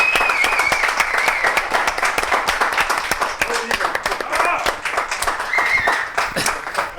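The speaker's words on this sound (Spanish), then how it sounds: "Vamos a recibir con un grandioso aplauso a Carlos II." A studio audience bursts into sustained applause to welcome Carlos Segundo, dense rapid clapping that stays loud and steady throughout.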